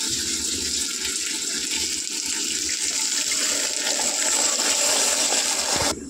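Water pours into a pan of fried fish for a fish curry as a steady, continuous gush that holds for about six seconds and then cuts off sharply, with no talking.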